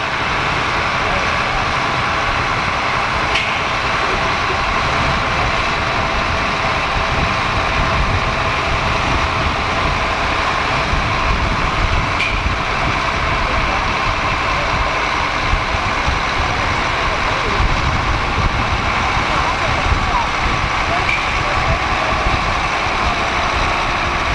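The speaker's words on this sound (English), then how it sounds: "Up next, we have an Allis Chalmers G21 from 1964" A 1964 Allis Chalmers G21 tractor engine runs at a threshing show, a steady low rumbling idle that holds constant throughout, mixed with the murmur of a crowd and voices talking.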